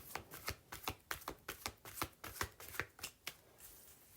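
A Musical Alchemy of Astrology card deck being shuffled by hand, a quick run of about a dozen crisp riffling bursts in a steady rhythm, close and quiet, with no talk.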